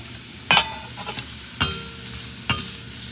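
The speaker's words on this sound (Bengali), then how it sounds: "এই পাঁপড়গুলো ভাজতেও ভালো লাগে।" Papads frying in hot oil in a pan, a soft background sizzle with three sharp scraping bursts from stirring or turning at a steady interval, close and loud, no voices.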